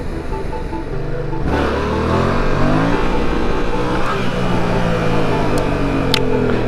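A Yamaha MT-07 motorcycle revs hard during wheelies on the road, the engine note climbing and holding loud and close beneath steady wind rush.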